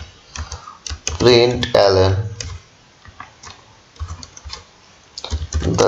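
Rapid clicking keystrokes on a computer keyboard while Java code is typed, coming in bursts and pauses, with someone talking over parts of it.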